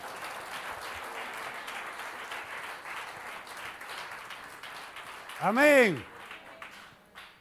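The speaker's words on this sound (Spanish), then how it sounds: "Un aplauso al Señor, hermano" A church congregation claps for the Lord during a Friday evening service in Barquisimeto, a continuous patter that ends as a voice calls out over it.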